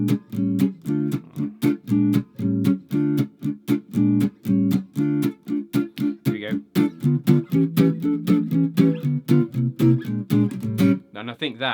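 Jazz guitar chords on busier changes, played in a steady rhythm of short plucked strums with clear harmonic tones, close and alone, ending in a brief ringing chord.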